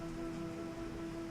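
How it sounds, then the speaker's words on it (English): Rain falls steadily, a constant broadband patter with no breaks, close and fairly loud, while a low electrical hum runs beneath it. "It has started raining"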